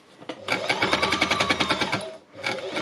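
A fabric embellishing machine runs in close, rapid mechanical bursts, with a fast, even needle-punching rhythm for about a second and a half, a brief pause, then another short burst.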